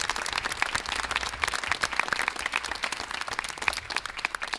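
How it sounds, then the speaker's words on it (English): Attendees at a school board meeting applaud students, a crisp, continuous patter of many hands clapping at moderate volume, steady throughout with no talking. "one more round of applause for all of our incredible students"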